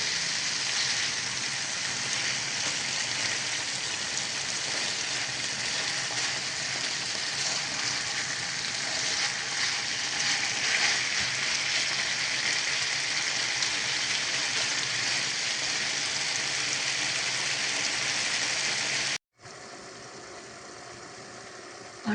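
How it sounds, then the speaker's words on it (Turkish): Steady, crackling sizzle of sultan kebab ingredients frying in a small pan, loud and close, continuing without pause before cutting off briefly near the end. "telefon tavaya çok yakın olduğu için eminim cızırtı sesi çoktur"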